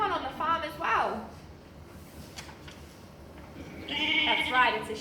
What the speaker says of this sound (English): That's right, it's a sheep.